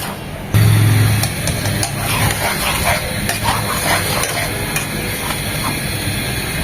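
Spice paste of chili powder and garam masala mixed with a little water is fried and stirred in a pan for a tomato and potato chicken curry, producing a loud, steady sizzling hiss with scraping under it.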